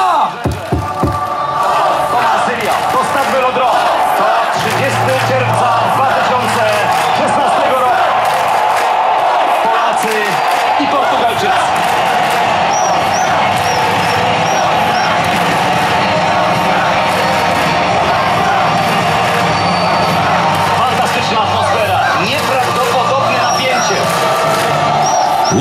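Football fans in a Koszalin fan zone before Poland's EURO 2016 match against Portugal roar, chant and cheer as a loud, dense crowd, with an announcer's amplified voice briefly heard over the din.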